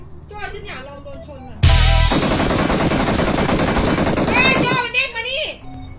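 A long, loud burst of rapid gunfire rattles continuously for about three seconds, with excited voices shouting before and after it.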